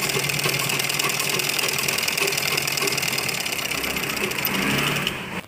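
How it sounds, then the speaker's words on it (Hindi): A sewing machine runs continuously, stitching along the edge of a kurti patch: a fast, even mechanical whirr close up that stops abruptly at the end, with no talking. "यहाँ किनारे किनारे पर एक सिलाई और लगाएंगे"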